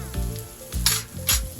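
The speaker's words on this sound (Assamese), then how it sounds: "জুইটো অলপ কমাই ৰাখিম, ৰাখি আলুটো ভালদৰে ভাজিম মই।" Small potatoes frying in a pan with salt and turmeric over lowered heat, a close, loud sizzle with bursts of crackle roughly every half second as they are stirred, no voices.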